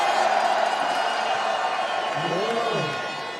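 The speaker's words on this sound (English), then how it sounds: "Listen to the roar of applause from our fan base here in Montpellier" A large crowd at a BMX freestyle spine ramp final in Montpellier roars and applauds in a sustained wash of cheering, with a commentator's voice rising over it and the noise easing toward the end.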